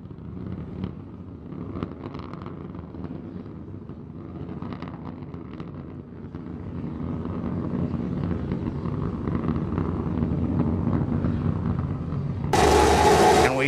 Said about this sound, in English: All three Raptor engines continuing to burn.